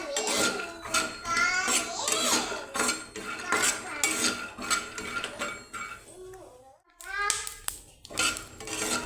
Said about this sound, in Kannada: ಹಾಕ್ಕೊಂಡು ಇದನ್ನು ಚೆನ್ನಾಗಿ ಕಲರ್ ಚೇಂಜ್ ಆಗೋವರೆಗೂ ನಿಧಾನಕ್ಕೆ ಮೀಡಿಯಮ್ ಫ್ಲೇಮಲ್ಲಿ ಇಟ್ಕೊಂಡ್ಬಿಟ್ಟು ಹುರ್ಕೋಬೇಕು